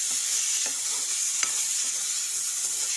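Food sizzles in a hot pan while being stirred, a constant frying hiss with soft scrapes and one sharper clink of a spoon on metal midway.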